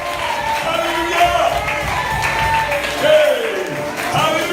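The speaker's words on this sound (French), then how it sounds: "Et le peuple de Dieu applaudit bien fort le Seigneur." A church congregation claps and cheers together, a dense, steady wash of applause with scattered shouts and whoops rising and falling, and a voice speaking over it.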